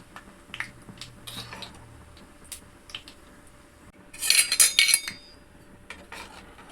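Sev frying in hot oil is turned over with metal utensils, bringing soft scrapes and a brief cluster of sharp clinks against the pan midway, with no talk.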